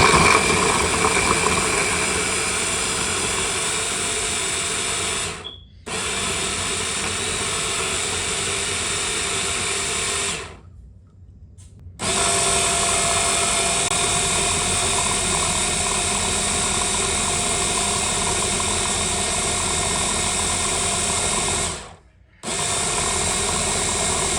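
Loud, steady whirring grind of a kitchen mixer grinder grinding garlic and ginger with oil, running in long bursts, stopping briefly three times before starting again.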